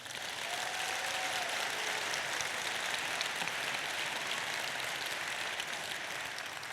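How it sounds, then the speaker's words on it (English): An audience at a Clipper Round the World Yacht Race crew allocation event gives a steady, fairly faint round of applause that lasts several seconds, with no talking over it. "Give yourselves a round of applause"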